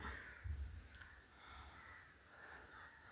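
Crows cawing outdoors, a few harsh calls at moderate distance over a steady background hum.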